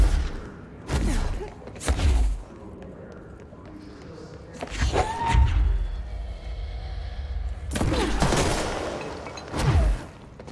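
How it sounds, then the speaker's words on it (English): Explosions in the action video game Control, with several heavy booming blasts and thuds spaced through the stretch, loud and close, amid rumbling gameplay noise. "Therefore, explosions."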